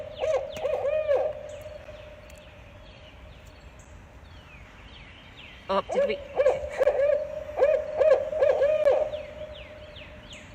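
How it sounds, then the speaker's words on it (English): Barred owl calls ring out in two loud, rhythmic series of hoots and throaty cackles, with a quieter gap between them and people talking briefly. "But barred owls are my favorite call."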